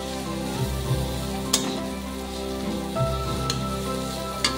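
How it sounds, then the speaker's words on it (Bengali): Pointed gourd sizzles in a spiced frying pan for potol puri while a spatula turns it over, the steady frying hiss broken by a few sharp scraping clicks of the utensil against the pan, close and alone. "তারপর এটাকে হালকা করে খুন্তির সাহায্যে এপিট ওপিট করে মাখিয়ে নিতে হবে"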